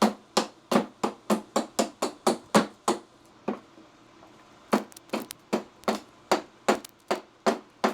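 A hatchet hewing wood to a line, struck in a steady series of sharp, close chops, one group of about ten, a brief pause, then another run of strikes.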